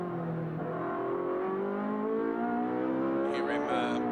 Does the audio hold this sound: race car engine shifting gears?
yes